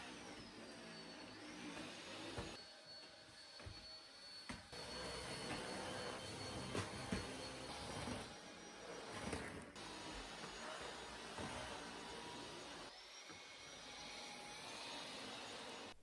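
Roborock H6 Adapt lightweight cordless vacuum cleaner running steadily through the house, a continuous whirring motor hum with shifting tone as it moves, brief dips and surges, heard alone without talk.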